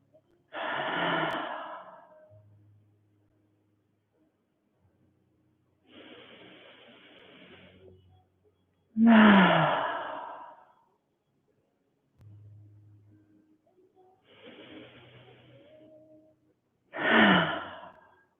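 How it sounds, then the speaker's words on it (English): During a gentle yoga breathing exercise, a woman breathes in through the nose and then lets out several audible sighing exhales, the loud breaths spaced a few seconds apart with quiet gaps between them. "3 breaths in through the nose with audible exhales to release some of that energy."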